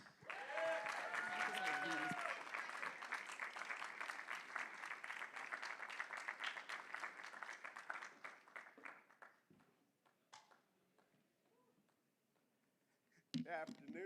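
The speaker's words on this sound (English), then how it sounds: "thank you to my paid supporters that clapped for me" An audience at a summit gathering applauds loudly for an incoming speaker, a North Carolina House Democratic leader, sustained clapping for about eight seconds that thins into scattered claps, with a voice shouting over the start and speech briefly returning at the end.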